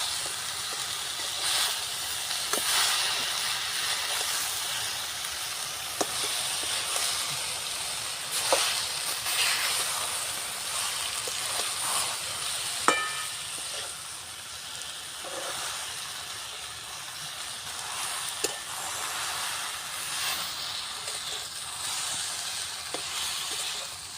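Chalta (elephant apple) pickle simmering with cane jaggery as it is stirred in a pan: a steady bubbling hiss throughout, with occasional sharp clicks of a spoon against the pan, close and moderately loud, no talk.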